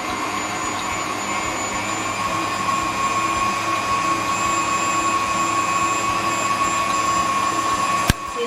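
Electric hand mixer beating cookie dough on low speed, a steady high-pitched motor whine held throughout at moderate level, ending with a brief click near the end.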